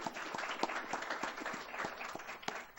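Scattered audience clapping at a lecture on proton therapy in radiation oncology, faint and fairly distant, with individual claps audible in an uneven rhythm.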